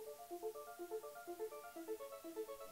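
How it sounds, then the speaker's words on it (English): A synth arpeggio in an electronic dance track cycles through a rapid repeating pattern of bright plucked notes, quiet and filtered, with no voices. "I also have this ARP coming in slowly"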